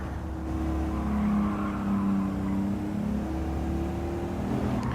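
A classic car engine in a PSVR2 racing game drones at full throttle, a steady, strong, close engine note with slight rises and dips in pitch as it holds speed.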